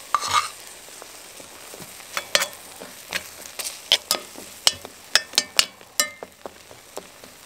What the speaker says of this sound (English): I'm cooking an omelette in the woods.